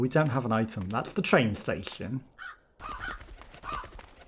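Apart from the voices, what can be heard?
crows cawing in the video game Crow Country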